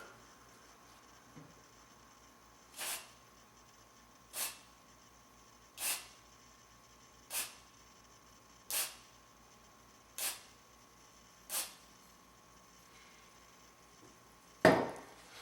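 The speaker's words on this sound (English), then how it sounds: "you're going to want to give it between 4 to 6 sprays, evenly timed apart, like so" Cleaner is sprayed onto a VW Passat mass airflow sensor in seven short, evenly spaced hissing bursts about one and a half seconds apart, close and fairly quiet over a low hum, ending with a louder clunk.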